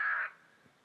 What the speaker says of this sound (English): That is airside operations making bird noises.